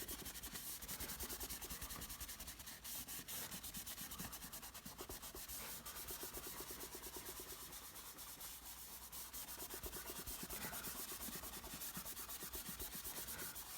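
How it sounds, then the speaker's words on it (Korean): Soft, steady rubbing and scrubbing of tissue across a pencil landscape drawing on paper, close and quiet, continuing without pause. "휴지로 밑에서부터 문질러 주겠습니다"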